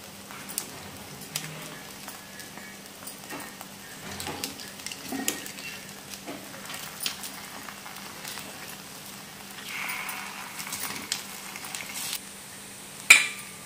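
Rava appe frying in oil in an appe pan, a faint low sizzle with scattered light scraping and tapping as the pieces are turned, ending in one sharp metallic clink.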